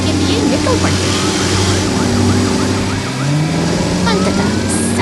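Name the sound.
ambulance and emergency vehicle sirens in animation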